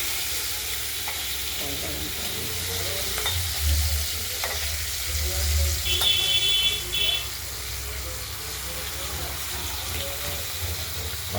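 Turmeric- and salt-rubbed rohu fish pieces frying in hot oil in a wok, a continuous loud sizzle with scattered pops and occasional utensil clatter.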